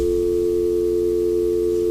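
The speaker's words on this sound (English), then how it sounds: "All right, phone lines went dead." A steady, unbroken telephone line tone drones loud and alone after a dead call on a radio show.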